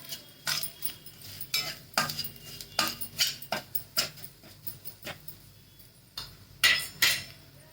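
A spoon scraping and knocking against a pan while stirring a mixture of red chili, turmeric and masala, a series of irregular metallic clinks and taps with short pauses between strokes, no talking.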